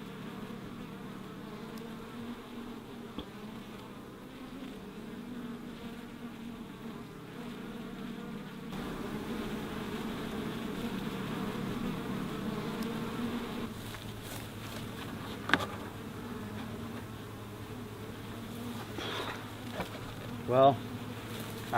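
Honey bees hum as a continuous, low, droning buzz at a hive entrance in an orange grove, with individual bees passing close now and then and a few faint knocks and clicks.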